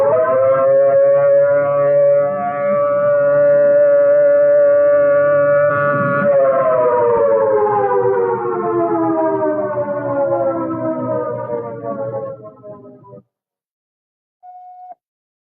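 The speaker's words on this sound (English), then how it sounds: "The alert signal is a steady blast of 3 to 5 minutes," A civil defense alert siren sounds a steady blast, a loud sustained wail that shifts pitch slightly partway through, then slowly drops and cuts off, with a brief short tone afterward.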